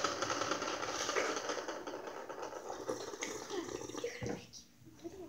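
Water pours out of a toilet in a continuous rushing, splashing stream that fades toward the end, with faint voices in the background.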